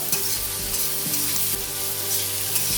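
Vegetables frying for chicken fried rice, a loud close sizzle with steady stirring and scraping against the pan throughout, no voices.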